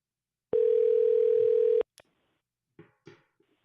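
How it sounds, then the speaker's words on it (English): A telephone dial tone sounds loudly for over a second, then stops; faint dialing or line clicks and brief muffled sounds follow after a short pause, during a live talk show call. "Let's try to get Ed on the phone."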